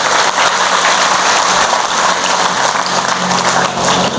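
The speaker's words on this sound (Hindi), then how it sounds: "एक बार आप सगड़ा आपका प्रजापति समाज के लिए जोरदार तालियां बजाओ साहब" Loud, dense applause from an audience at a Prajapati community poetry gathering in Surat, a steady roar of clapping lasting the whole stretch without letup.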